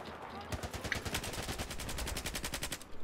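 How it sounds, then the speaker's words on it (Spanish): Rapid automatic gunfire in the Battlefield 4 PC shooter: dense, loud, evenly spaced bursts of shots that start after a brief lead-in and keep going steadily to the end. "Disparando."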